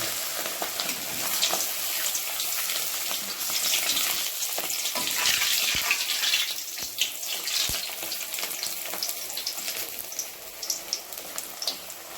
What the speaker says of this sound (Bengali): এবার এগুলোকে আমি লুচির আকারে ভেজে নেব।